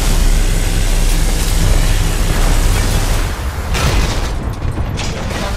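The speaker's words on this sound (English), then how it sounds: "firing laser core" A Titan's laser core fires in Titanfall 2, a loud, sustained roaring blast that holds steady for several seconds before a sharp, crackling surge near the end.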